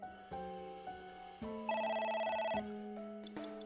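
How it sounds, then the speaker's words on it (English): In the video game AI: The Somnium Files, a phone rings with a repeating electronic ringtone melody of bright tones, clear and moderately loud with no voices. "A phone."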